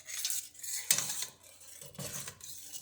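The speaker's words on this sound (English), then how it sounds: "So getting this all mixed in, incorporated together, still stirring." A spoon scrapes and stirs thick no-bake cookie batter in a pot, a close, rhythmic series of gritty rasping strokes with sharper scrapes against the pot, no talking.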